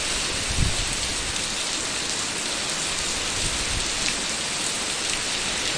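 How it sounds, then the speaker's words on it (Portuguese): Heavy rain pours down on a Saturday in Manga, Minas Gerais, a loud, continuous hiss of drops on surfaces with water running, steady from start to end and without voices. "Chuvada legal dessa"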